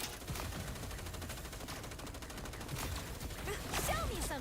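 Rapid gunfire in the video game Fortnite, sounding as a fairly faint, continuous burst of repeated shots over a few seconds, with a few sharper cracks near the end.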